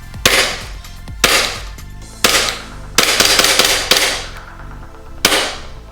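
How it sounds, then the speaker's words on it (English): An Elite Force Glock 19 airsoft pistol dry fires with its slide catch held down, giving six sharp, loud snapping clacks at uneven intervals, each with a brief metallic ring and no voices. "I can hold down the slide catch to fire it a couple times."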